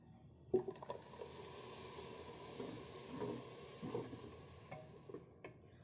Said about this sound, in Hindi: अब इन मसालों को थोड़ा भून लेंगे प्याज के साथ। अब इसमें टमाटर की प्यूरी डाल देंगे